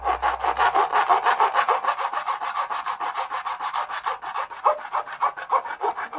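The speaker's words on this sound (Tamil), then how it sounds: "வாசர் பிளேட் வச்சு கட் பண்ணி எடுத்துக்கிறோம்" A part being cut by hand with a hacksaw blade while making a small DC-motor water pump, a close, steady rasping back-and-forth stroke, evenly rhythmic throughout.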